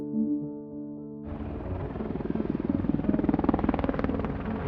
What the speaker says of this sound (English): 2 Black Hawk helicopters, equipped with secret stealth technology, take off from Jalalabad airfield and head towards bin Laden's compound.